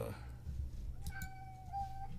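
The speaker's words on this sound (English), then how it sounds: "now I got another cat yelling at me" A cat meows and yells nearby with drawn-out, rising tonal cries over a steady low hum, while a baseball game plays in the background.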